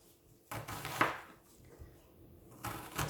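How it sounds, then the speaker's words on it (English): A knife cuts through an onion onto a chopping board, giving a few separate thuds and a cut with a crunching sound at close range, with quiet gaps between strokes. "So down with the knife, with claw, all the way to the chopping boards."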